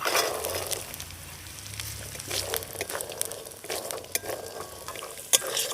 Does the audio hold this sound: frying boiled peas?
yes